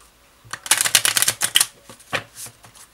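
A small deck of Lenormand fortune-telling playing cards riffled and shuffled in quick crisp bursts, a run of papery flutters followed by a couple of softer taps.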